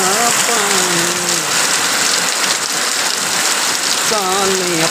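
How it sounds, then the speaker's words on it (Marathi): Heavy rain pours steadily and loudly onto surfaces, a dense continuous hiss throughout, with a voice singing or calling briefly over it at the start and end. "एवढा मोठा पाऊस पडलाय"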